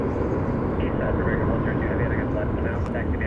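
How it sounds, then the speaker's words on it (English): An Airbus A319 jet airliner, Flight 1294 bound for Austin, Texas, at DFW Airport, roars as a broad steady rumble throughout. Voices talk under the engine noise. "It's an Airbus A319."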